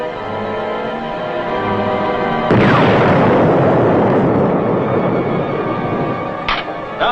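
A sudden heavy explosion from a torpedo striking a tanker amidships in a World War II submarine TV drama, bursting in loud over a quiet hum and rolling on in a long rumbling roar, with a short sharp crack near the end.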